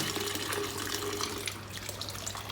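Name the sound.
washing beans in water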